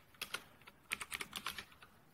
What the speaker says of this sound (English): Now all we have to do is just type startx